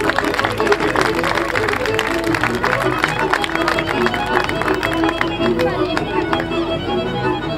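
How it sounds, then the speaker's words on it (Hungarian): An outdoor crowd applauds a child's placing in the children's category of the 2012 whip-cracking world championship in Hungary, a dense, sustained patter of clapping that holds steady before thinning slightly. "Tapsoljuk meg!"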